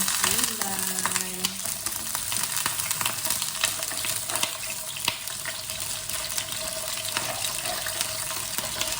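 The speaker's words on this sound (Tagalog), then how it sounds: "Ipiprito lang natin sila para maganda ang kulay." Crabs fry in butter with a steady, close sizzle and crackle, joined by some watery splashing and stirring noises throughout.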